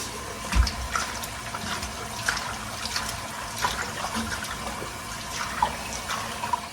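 Water runs steadily into a kitchen sink as turnip greens are given a second rinse, a continuous splashing hiss with small gurgles and bumps throughout, close by and with no voices.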